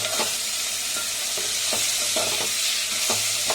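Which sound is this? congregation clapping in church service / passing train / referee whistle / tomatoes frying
tomatoes frying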